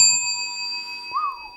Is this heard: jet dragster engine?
no